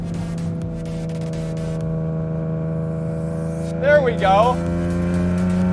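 A BMW E30 with a Euro E36 M3 S50 engine swap and an open exhaust cutout idles with a steady, deep drone, then gives a brief rev midway before settling back. Someone speaks briefly.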